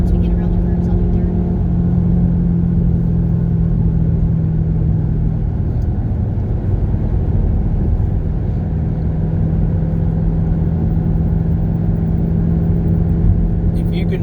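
A Shelby GT500 holds a deep, steady engine rumble from inside the cabin as it drives in second gear, loud and constant throughout, with no clear gear change and no speech.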